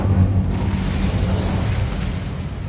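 A loud, sustained roaring burst of the Incendio fire spell in the Hogwarts Legacy video game, a dense rushing blast of flame filling the whole moment without pause.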